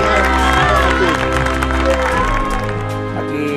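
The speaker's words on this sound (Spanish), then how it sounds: "quiero un fuerte aplauso para Amparo Herrera." Crowd applause and cheering ring out at a hockey awards celebration, dense and sustained clapping with scattered shouts and voices mixed in throughout.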